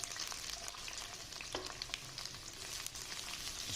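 Chopped onion frying in cooking oil in a pan, a steady bright sizzle throughout with a few faint clinks, close and alone.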